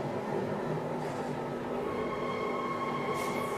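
A subway train ride in a video game, a steady rolling rumble with faint tonal hums running throughout, heard alone at a moderate level.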